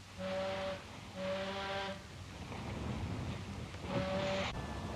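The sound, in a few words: ship's whistle blasts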